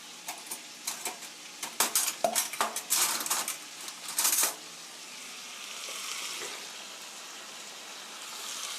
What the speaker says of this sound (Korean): 이렇게 볶으시다가 어느 정도 채소가 볶아지면